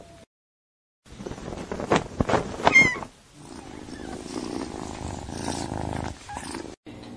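A cat purrs in a soft rumbling stretch after a few brief meow-like cries, fairly close, with a short near-silent gap at the start and an abrupt cut near the end.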